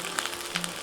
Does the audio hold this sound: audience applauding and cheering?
no